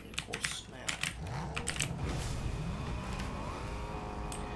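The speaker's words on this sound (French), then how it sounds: "je veux pas trop vous faire entendre le clavier, mais... Parce que mon clavier est trop mécanique." Quick clattering keystrokes on a mechanical computer keyboard come in bursts near the start, then thin out under a steady background of game or engine noise with some voice-like sound.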